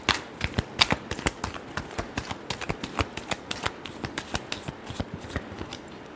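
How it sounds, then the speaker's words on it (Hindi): A deck of cards being shuffled at close range: a long, even run of crisp riffling flutters in quick, steady succession, with no talk over it. "Last shuffle."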